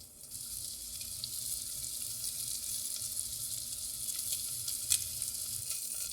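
Onions and carrots sizzle steadily in a hot pan, a close, continuous bright hiss with small pops and crackles throughout and no voices.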